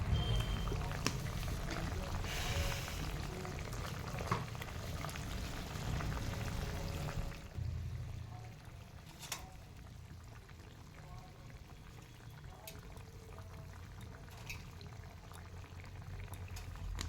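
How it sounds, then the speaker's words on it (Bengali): Fish curry broth with bitter gourd and eggplant boils in a pan, a steady bubbling hiss that is louder at first and then settles lower. "ঝোলটা ফুটতে শুরু করেছে।"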